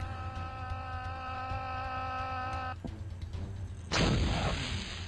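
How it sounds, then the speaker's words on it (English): Explosion in the archery video game Probably Archery: after steady game music cuts off, a loud sudden burst erupts and lingers with a noisy, hissing tail under a high whine. "that one just randomly exploded"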